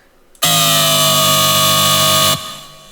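A single dry, buzzy bass note from the Serum synthesizer sounds abruptly, holds steady and bright for about two seconds, then cuts off, with no effects.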